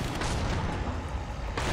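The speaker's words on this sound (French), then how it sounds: "Ouais, explosion atomique" An atomic explosion in the Killing Floor 2 video game, a dense sustained roaring blast that fills the whole moment at steady loudness, with no voices over it.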